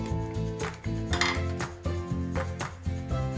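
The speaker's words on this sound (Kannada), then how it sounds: "ಕುಕ್ಕರ್ ಓಪನ್ ಮಾಡಿ ತೋರಿಸ್ತೀನಿ ರೀ" A kitchen pressure cooker is handled and opened after cooking green chicken curry, giving a close series of metallic clanks and scrapes against a steady hum.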